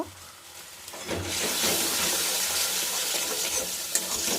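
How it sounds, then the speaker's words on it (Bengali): A paste of ginger, chili and tomato goes into a hot pan with salt and is stirred. After a quiet first second, a strong sizzle swells up and holds steady, broken by light scraping. "আদা লঙ্কা টমেটো পেস্ট করেছিলাম ওটা এর মধ্যে দিয়ে দিলাম লবণ দিয়ে নেড়ে নেব"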